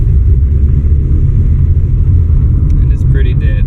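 A 1997 Toyota Camry rolls along at about 20 mph with a steady, loud low road rumble and engine drone filling the cabin, with a few faint higher tones near the end.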